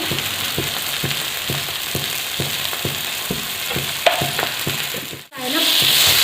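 Green chillies fry for Khandeshi thecha in a pan, a steady sizzle under regular scraping stirs of a spatula, ending in a sudden sharp hiss as something hits the hot oil.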